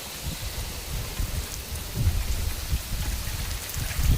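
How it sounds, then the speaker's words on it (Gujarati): Heavy first-of-season rain pours down hard and fast, a loud, dense, continuous hiss of drops pounding surfaces with low rumbling underneath. "જો કેટલી સ્પીડથી વરસાદ જાય છે"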